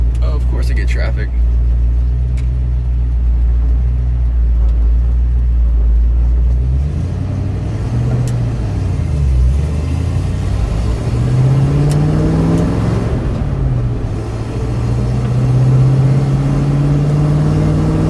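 Steady road traffic with car engines rumbling close by and vehicles passing, engine tones rising and falling, heard from inside a vehicle while a voice talks over it.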